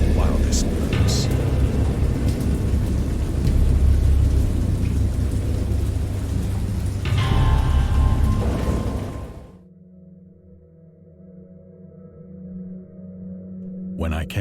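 A loud thunderstorm in the game Dagon, with heavy rain and rumbling thunder for about nine seconds, then a sudden cut to a quiet, low hum.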